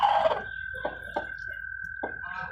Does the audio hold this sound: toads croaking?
yes